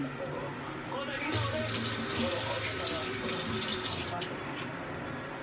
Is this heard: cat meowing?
no